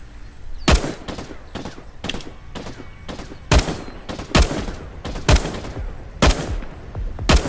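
Gunfire rings out in the mobile survival game LifeAfter, sharp loud shots at irregular intervals, roughly ten distinct cracks over several seconds against a low game ambience.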